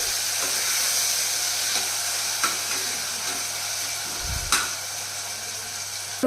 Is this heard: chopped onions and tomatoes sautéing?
yes